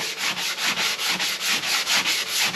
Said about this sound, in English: just running around with a sanding sponge now